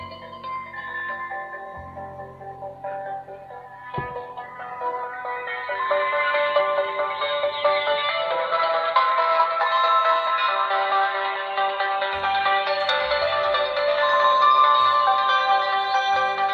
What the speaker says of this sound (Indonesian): itu adalah nada daring dari si handphone ini